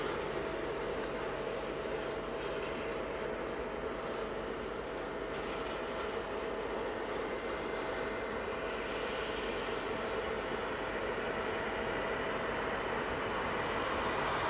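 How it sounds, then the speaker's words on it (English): A Ryanair jet at Newcastle Airport, a far-off steady engine roar that blends into constant broadband noise with a faint hum, unchanging and without talk across the whole stretch. "I can actually already hear the Ryanair just in the background."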